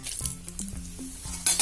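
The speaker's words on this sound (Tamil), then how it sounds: "கொதிக்கிற எண்ணெயில் அதை போடுங்க." Urad dal medu vada fry in hot oil with a steady close sizzle, light clicks and stirring taps, and a louder burst of crackling at the very end.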